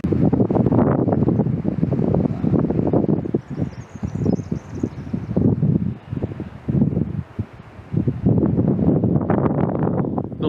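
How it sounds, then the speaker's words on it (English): Heavy wind buffeting a microphone outdoors on the Tasmanian coast, a continuous low roaring rumble that surges and dips in gusts for the whole stretch. "It'll be a bit windy, but the view's worth it, and I'm not smart enough to get rid of the wind."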